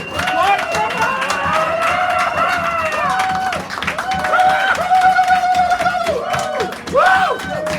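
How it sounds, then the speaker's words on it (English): An open mic audience at a poetry hour in a San Francisco cafe applauds to welcome a new performer, with steady clapping and some cheering mixed with voices and crowd chatter throughout. "we give them a full round of raucous applause, loud, raucous, polite, and loving"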